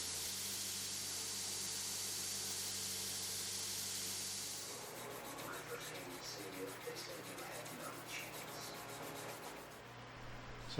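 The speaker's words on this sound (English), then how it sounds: "I took it back over to the grinder for final shaping" A steady, loud hiss of an abrasive grinder working a leaf spring steel knife blade, breaking after about five seconds into rougher, uneven rasping strokes as the steel is shaped.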